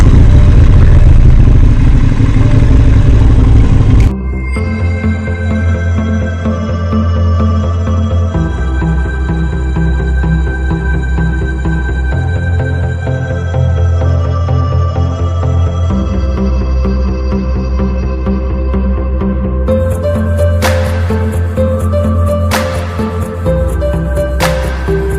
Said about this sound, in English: Start engine, neutral position,